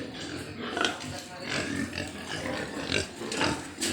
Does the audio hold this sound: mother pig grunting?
yes